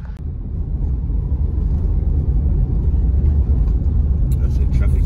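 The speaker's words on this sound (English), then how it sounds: "That's it, traffic, you know?" Road traffic passes nearby, making a steady loud low rumble of car and engine noise that holds through the whole stretch while a person talks over it.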